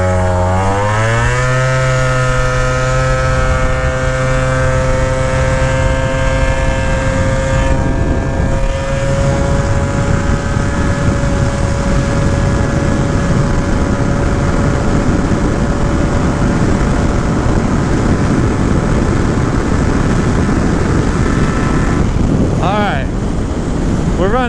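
Gilera Runner 180 scooter, stock, riding at about 80 mph on an open road, a loud sustained engine drone at high revs buried in heavy rushing wind noise for the whole run.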